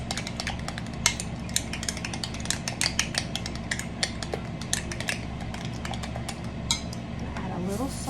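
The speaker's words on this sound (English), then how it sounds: "I'm just going to sprinkle a good portion of that in here and give it a stir" Utensils clink and scrape against a bowl while tahini is stirred into a Mexican street corn salad, with sharp irregular taps over a steady low background hum.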